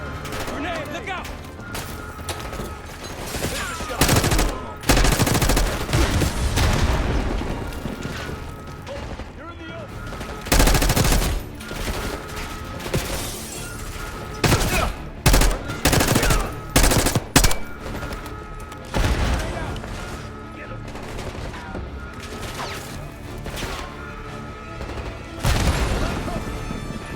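Gunfire and a grenade blast in the Call of Duty: Black Ops 6 video game: loud bursts of machine-gun fire and heavy booms repeat in clusters, close and dense, with shouted voices in between.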